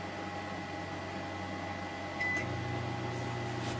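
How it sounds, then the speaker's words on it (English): A microwave oven powered through a 1000 watt pure sine inverter on an ALLLIKE portable power station hums steadily, its low drone stepping up slightly as the heating cycle starts, with a brief high tone near the switch-on. "There's my microwave is on."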